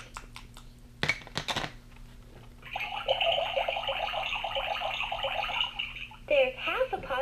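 Pouring from a LeapFrog Musical Rainbow toy tea set pot, a steady trickling pour lasting several seconds after a couple of clinks, close and moderately loud, with a voice and talking around it.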